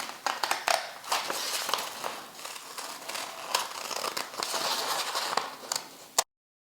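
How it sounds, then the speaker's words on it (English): Scissors snip and crunch through cardboard, cutting out a lotus design; a steady run of close crisp cuts with rustling handling, loud and without speech, ending abruptly. "Use a scissors and cut out the design and use that to trace on top of the"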